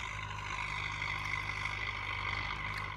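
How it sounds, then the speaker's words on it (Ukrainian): A YuMZ-6 tractor ploughs a home vegetable garden, its diesel engine droning steadily with a low rumbling hum and a constant whine, moderately distant and unbroken throughout. "чоловік взяв з сусіда трактора, юм за 6 і вже дооріє наш город"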